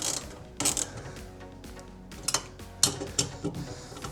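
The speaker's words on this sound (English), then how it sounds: "Not hard to put it in, just use a little socket with an extension." A small socket wrench with an extension tightens the bolts of tie-down rails in a Ford Ranger Raptor bed, making short ratcheting clicks in a few quick bursts between pauses, close by, with no talking.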